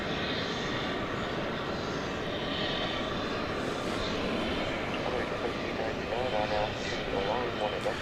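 An Airbus operated by American Airlines taxiing at night at DFW Airport and turning toward runway 18 left, its steady, broad engine rumble holding through the whole stretch alongside a voice talking over it.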